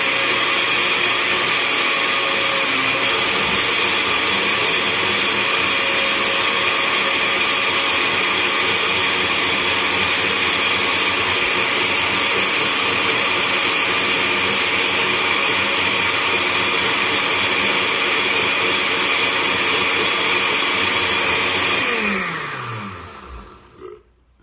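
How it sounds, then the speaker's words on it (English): A kitchen blender runs at full speed liquefying fresh spinach leaves with about half a cup of water, a loud steady motor whine held for over twenty seconds before winding down as it is switched off. "Pour it in, close the blender, and then I'm just gonna liquefy it."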